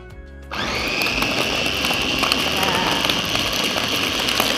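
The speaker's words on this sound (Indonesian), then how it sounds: "Oke, udah semuanya nih, kita blender dulu ya." A kitchen blender whirring through spinach and skim milk, switching on abruptly after a brief lull and then running loud, steady and close, with a high motor whine throughout.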